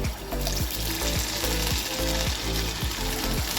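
Spoonfuls of snack batter with onion drop into hot oil and fry with a dense, steady bubbling sizzle, close and loud, with no talk over it.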